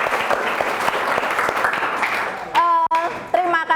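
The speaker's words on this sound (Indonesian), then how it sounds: "Ya, tepuk tangan dulu untuk kita semua." A class bursts into steady, dense applause that fills the room, then it stops and a voice speaks clearly over the quiet.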